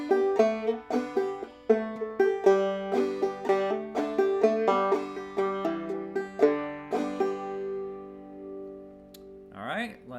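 Clawhammer banjo picking the old-time tune Waterbound, a steady run of bright plucked notes and brushed strums for about nine seconds, the final chord ringing out before a brief voice at the end.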